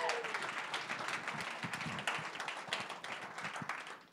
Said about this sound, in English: So give everyone a round of applause for that.